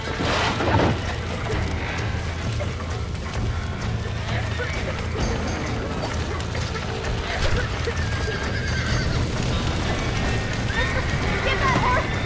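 A horse gallops with steady clip-clop hoofbeats and lets out a loud whinny early on in the video game Red Dead Redemption, under continuous outdoor game ambience with voices talking throughout.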